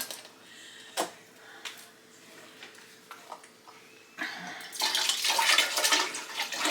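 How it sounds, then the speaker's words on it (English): Beef broth is poured into a soup pot of cabbage soup, a soft splashing pour that swells into a steady louder stream near the end, after a few quiet clinks. "we're going to go ahead and add the second beef broth"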